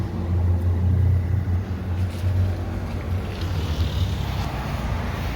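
A 2020 Indian Challenger motorcycle engine idles close by with a steady, loud, deep rumble that keeps an even low throb throughout.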